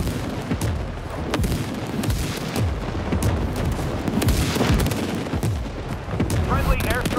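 Friendly airstrike explosions and gunfire in the World War 3 online shooter, set in burning Moscow ruins, make a loud, dense battle din of booms, shots and rumbling blasts that overlap throughout, with faint voices here and there.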